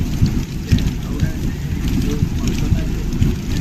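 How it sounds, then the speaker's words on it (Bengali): Heavy rain pouring during a storm, heard from a train running through darkness toward Kharagpur, a dense continuous roar with rhythmic low thumps of the wheels, loud and close throughout. "এই দেখো পুরো অন্ধকার মতো বৃষ্টি হচ্ছে"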